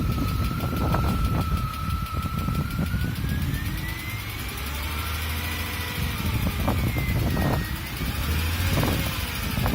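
A Chrysler Crossfire engine idles with a bad exhaust lifter on the first cylinder, driver's side, a steady close idle with a thin whine and a faint, quick ticking running through it.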